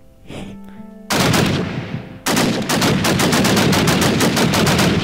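A BAR machine gun fires in a Minecraft WW2 mod game, with a short click, a brief loud burst, then a sustained rapid automatic stream of loud, close, evenly spaced shots.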